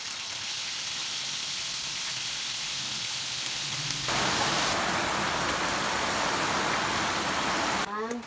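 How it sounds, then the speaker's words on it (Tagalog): Galunggong fish frying in hot oil in a pan, a steady loud sizzle and hiss that jumps louder partway through as the fish hits the oil, running without a break. "Ako po ay magpiprito ng isda."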